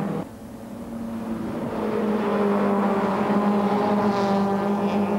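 BMW touring race cars race in a tight pack at Spa-Francorchamps during the 1995 24-hour race. A loud, sustained engine drone climbs steadily in pitch as the cars accelerate, with no commentary over it.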